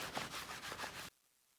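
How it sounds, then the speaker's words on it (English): Hands rub a wet felted wool phone case in rhythmic back-and-forth strokes, a soft, close, scratchy swishing that stops abruptly. "I'm also going to turn it over and make sure that we get the other side equally rubbed."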